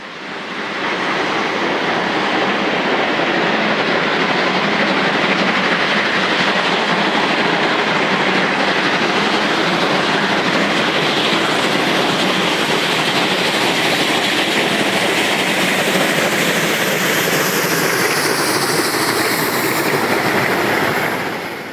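Class 01 steam locomotive 012-100-4 departs Hamburg-Harburg station close by in a steady, loud roar with faint rhythmic clatter of wheels on rails, continuous throughout.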